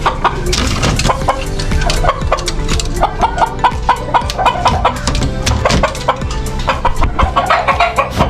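Gamecocks and other chickens in a backyard pen cluck and squawk loudly and close by, a dense, busy chorus of overlapping calls that never lets up, with no talking.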